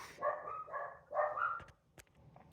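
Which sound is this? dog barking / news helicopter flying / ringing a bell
dog barking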